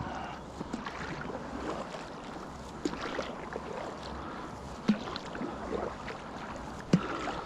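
A kayak paddles slowly across Lake Thirlmere, with soft rhythmic water swishes and a couple of sharp paddle knocks against the hull under steady wind and water noise.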